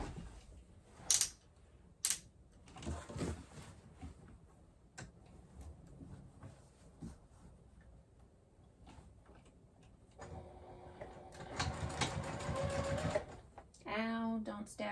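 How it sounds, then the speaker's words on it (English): A sewing machine stitches around a box seam on a tote bag, running in a short buzzing burst near the end after scattered handling clicks and thumps, with a voice talking quietly earlier. "we're just going to go ahead and stitch around that box"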